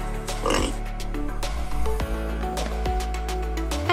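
A pig oinks and grunts in loud, repeated snorting bursts with a steady low rumble underneath, a close, continuous run of animal noises.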